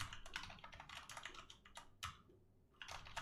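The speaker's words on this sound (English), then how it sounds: "I'm thinking, and typing is hard." Fast, uneven clatter of typing on a computer keyboard, close and fairly quiet, in bursts of keystrokes with a brief pause near the end.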